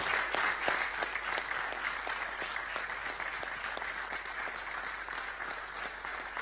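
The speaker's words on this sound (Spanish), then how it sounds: "para quien pido un fuerte aplauso" Studio audience on an Argentine television news program applauding a guest, a steady, even roar of many hands clapping that holds at a constant level throughout.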